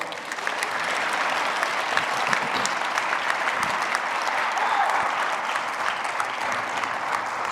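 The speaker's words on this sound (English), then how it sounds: "So give yourselves a round of applause." Sustained applause from an audience at a community college student leadership summit, steady and dense clapping filling the whole stretch at an even level with no speech over it.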